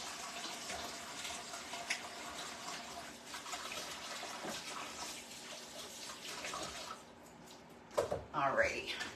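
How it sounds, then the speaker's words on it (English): Water runs from a kitchen tap while hands are washed, a steady broadband splashing that continues for most of the clip before tapering off with a few louder splashes near the end. "wash the hands."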